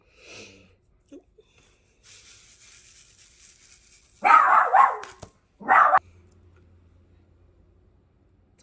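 Two short bursts of dog barking, close and loud, come after a mostly quiet stretch with faint low household sounds and a few small noises.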